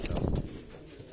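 Kamgar breed pigeons cooing and stirring as they are released, a few soft coos and wing flutters up close in the first half, fading to quieter rustling.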